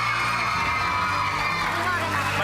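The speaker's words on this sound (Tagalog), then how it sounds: "Parinig ang palakpak ng red team!" Kids on a red team at a game-show challenge cheer and shout together, a dense, continuous wall of young voices filling the room, near and loud throughout with no clear clapping standing out.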